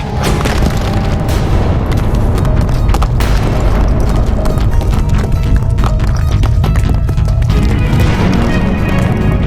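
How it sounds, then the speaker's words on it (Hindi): A loud, continuous rumbling roar with heavy low-end booms and clattering debris, like a blast followed by rocks tumbling and crashing. "ये तो पर्वत में विस्फोट हुआ है। चट्टानें उड़कर कहीं भी गिर सकती है।"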